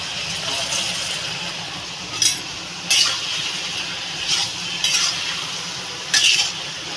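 A spatula stirs fish with bottle gourd and green chillies in a pan, scraping in about five distinct strokes over a steady, even sizzle of frying.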